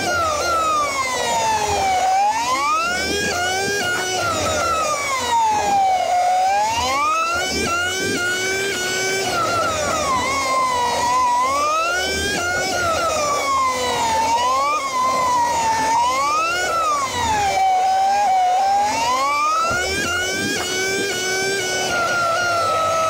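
A BMW S1000RR sport motorcycle accelerating hard around the Le Mans track during a trackday, its engine pitch climbing and dropping repeatedly through gear changes, loud and close for the whole stretch.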